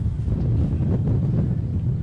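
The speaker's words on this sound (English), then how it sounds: "It'll just be how he allows for this breeze." Gusting wind buffets the microphone at an outdoor football ground, a steady low rumbling roar filling the whole stretch with no other sound standing out.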